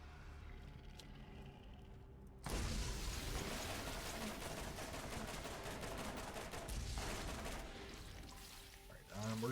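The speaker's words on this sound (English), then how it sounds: "So machine guns just rip through ammo" Machine gun fire in the video game Borderlands bursts in suddenly as a loud, dense, continuous rattle lasting several seconds, then briefly eases off and resumes.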